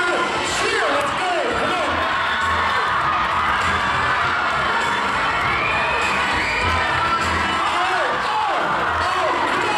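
Children cheer and shout loudly and without letup at a basketball game, a dense crowd of young voices whooping and calling out together for the whole stretch.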